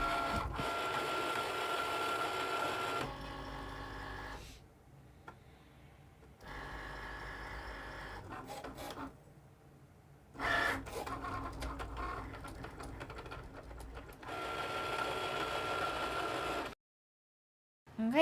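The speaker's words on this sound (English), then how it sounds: "I'm going to hit the Cricut button again, and it'll go over it with 1 more pass just to make sure it's cut all the way through" A Cricut cutting machine makes an extra pass through magnet sheet craft material, a close mechanical whir of motor and carriage running in several stretches, separated by short pauses and near-silent gaps.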